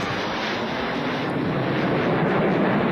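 An F-15 fighter jet flying past, a steady, loud broadband jet roar that holds for the whole stretch with no pauses.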